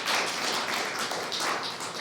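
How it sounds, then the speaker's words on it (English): A small audience applauding for Jordan at a live body language show, with dense, steady clapping close by for about two seconds and no talking. "round of applause for Jordan again."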